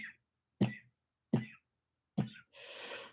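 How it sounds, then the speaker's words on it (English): A person coughing three times in sharp, evenly spaced bursts close to the microphone, followed by a breathy exhale. "trying to control this cough."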